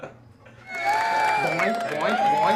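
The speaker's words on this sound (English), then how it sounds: "I've got a little applause thingy in here I could use if you want." A small handheld device plays a canned applause and cheering sound effect, starting after a quiet moment and continuing loudly with whoops and crowd noise.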